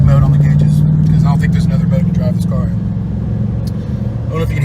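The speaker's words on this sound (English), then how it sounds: "don't know if you can hear that exhaust." Deep, steady exhaust rumble from a 2019 Ford Mustang Bullitt's Coyote engine while driving, a low continuous drone heard from inside the car beneath someone talking.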